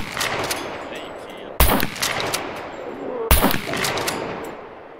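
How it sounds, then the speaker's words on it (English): Shotgun fire in the SCUM video game: two loud, sharp blasts a couple of seconds apart, each with a brief echoing tail, over a continuous background of game ambience and players talking. "That's shotgun, dude."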